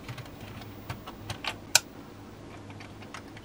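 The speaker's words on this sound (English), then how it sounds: "I have to test to see if the other keyboard is working" Commodore Plus 4 keyboard being tested, a few soft scattered key taps with one sharper click, quiet and close, over low background hum.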